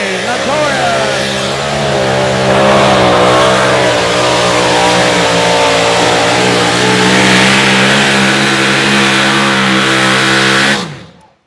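A two-wheel drive pulling truck at a Saturday night outlaw pull in Rock Valley roars at high revs, a loud, steady drone lasting about eleven seconds before cutting off abruptly, with an announcer talking over it.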